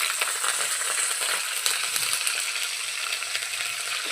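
Curry leaves hissing in hot tempering oil with cumin and dried red chillies, a loud, dense, continuous close-up sizzle with faint crackles, no talking.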